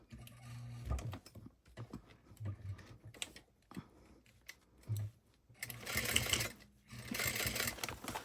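A sewing machine stitches a crossbody bag in short runs, its rapid mechanical chatter starting and stopping between quiet pauses, with a louder burst near the end.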